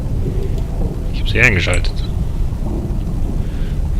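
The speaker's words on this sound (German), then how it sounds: "Ja, es regnet halt nicht so stark, ne?" Steady rain and a low rumble of thunder from the video game Biosys fill the background, while someone briefly speaks over it.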